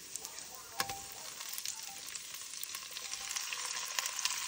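Morel mushrooms sizzling and frying in butter with garlic, a steady close crackle with scattered pops and a few sharper hits, with no talk over it.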